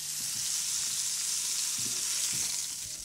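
Beef searing in a little hot oil in a pan, a loud continuous hiss and sizzle held steady throughout, with a few low thumps and scrapes as the meat is moved.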